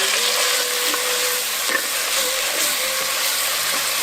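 Ground shallots and garlic sizzling in a hot pan for a South Indian dry fish gravy, a steady close frying hiss with faint crackles and occasional stirring, no voices.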